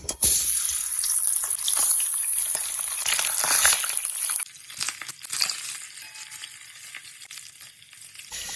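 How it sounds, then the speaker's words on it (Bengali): Fish slides into hot oil and fries with a loud, hissing sizzle that fills the first half, then drops to a quieter, crackling spatter with scattered pops; no one speaks. "গরম হয়ে গেছে দিয়ে দিচ্ছি মাছ"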